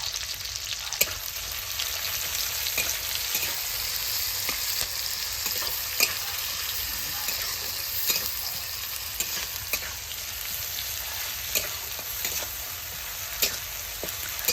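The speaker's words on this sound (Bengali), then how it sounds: "এখন ভাজাভাজি চলছে, পেঁয়াজ লঙ্কা রসুন দিয়ে ভাজাভাজি চলছে" Onion, chili and garlic frying in a pan, a continuous bright sizzle with periodic scraping clicks from stirring, close and steady throughout without any talk.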